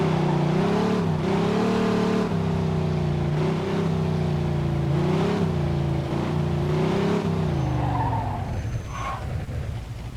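A car drifts in Mafia 2, its engine holding a loud, wavering drone with rising and falling pitch as the tires skid, then thinning out near the end.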